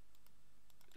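Keyboard typing while entering text for a sign in Minecraft, a few quick clicky keystrokes scattered across a steady faint background hum, no voices.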